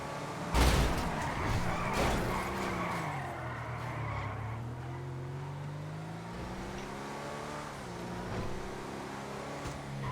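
A car in the GTA 5 game skids under hard braking. A sharp impact comes first, then a long, loud tire squeal sweeps downward over several seconds, and the engine and screech trail off near the end.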